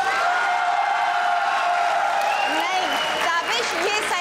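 Studio audience of a comedy talk show applauding loudly, a dense steady clapping with some cheers, while a voice speaks over the second half.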